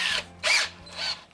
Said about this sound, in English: am I going to risk drilling through?